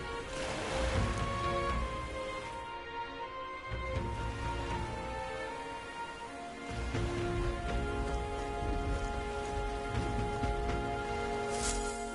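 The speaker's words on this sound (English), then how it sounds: "This bloody rain." Rain falls in a steady, even hiss with a low rumbling wash beneath, heard continuously under sustained tonal music.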